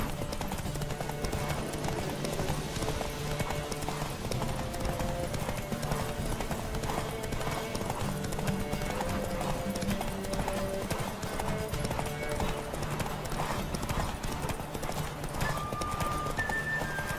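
Rapid, steady hoofbeats of a galloping horse in The Witcher 3: Wild Hunt continue throughout, with a tonal musical score playing over them.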